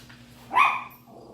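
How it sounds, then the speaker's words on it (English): A dog gives a single sharp demand bark, loud and close, alone without talk. "He has a demand bark too, that one."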